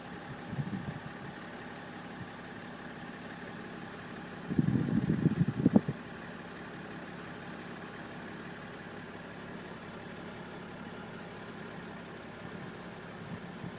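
A BMW 530D E60 diesel car with a smoky exhaust and a suspected turbo fault runs steadily, a continuous low engine hum with a short louder rumbling burst in the middle.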